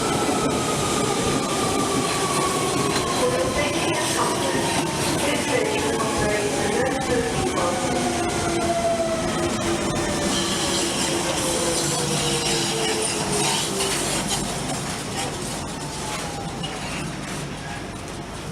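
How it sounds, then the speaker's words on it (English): A London Underground Central Line train pulls into Stratford station, platform 6, with a steady loud rumble of wheels on rails and a long falling squeal of brakes, easing slightly toward the end. "Central Line train approaching Stratford"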